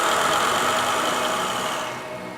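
A steady, dense generator engine roar drones continuously throughout, loud and close, in a sound-insulated test room, easing off slightly toward the end.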